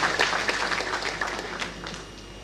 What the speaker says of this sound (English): Please, another round of applause to the second deputy vice president